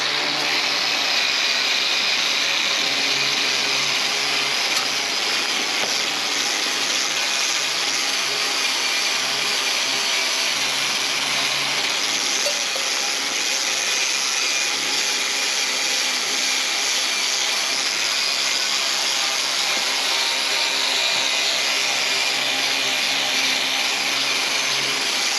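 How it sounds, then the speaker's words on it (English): An angle grinder fitted with a wire wheel buffs coating off fresh MIG welds on a Kubota B2601 rock bucket, giving a continuous loud whirring hiss that holds steady without break. "I'll take my wire wheel on my grinder, buff this all out quick"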